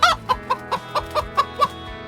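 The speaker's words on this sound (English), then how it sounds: "Chickens are busy birds. They lay eggs and love to cluck." A chicken at a coop clucks in a quick, evenly spaced series of about eight close, clear calls with no talking.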